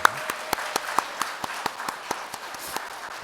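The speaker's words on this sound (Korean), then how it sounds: "큰 박수로 맞아주시기 바랍니다" A small congregation claps during a church service for newly appointed honorary deaconesses, with distinct, evenly spaced claps over a faint hum of the room, close and fairly sparse, without talk.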